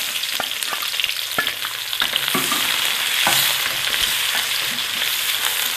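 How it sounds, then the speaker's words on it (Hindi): Onions fry in oil with cinnamon, cloves, black cardamom and black peppercorns, making a loud, continuous sizzle broken by scraping stirs and light taps of the spoon against the pan. "प्याज को यहाँ पे गोल्डन ब्राउन होने तक जो है हमने पकने लेना है।"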